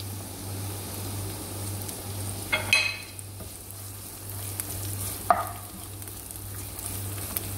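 Onions being sautéed and stirred in a pan for miswa with malunggay, a low continuous sizzle under a steady hum, with two distinct utensil scrapes against the pan, close by and with no one speaking.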